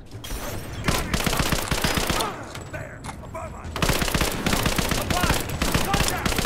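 Pistol shots ring out in a video game as rapid, loud, close bursts of gunfire, broken by a brief lull before the firing resumes, with some game noise underneath.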